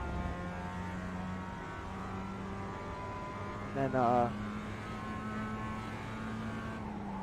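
Mazda Miata race car lapping Brands Hatch in the iRacing sim, its engine a steady, sustained drone with a brief louder surge midway, while someone talks over it.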